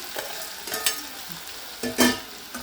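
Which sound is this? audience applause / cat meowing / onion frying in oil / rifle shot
onion frying in oil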